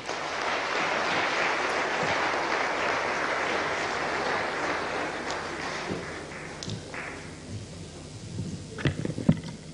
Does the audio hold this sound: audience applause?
yes